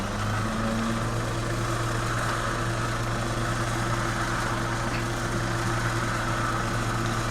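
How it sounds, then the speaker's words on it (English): A winch spools in rope hooked to a tree on a backcountry hut track, giving off a loud, steady mechanical drone with a constant low hum that holds unbroken from start to finish. "the winch is doing its job nicely there"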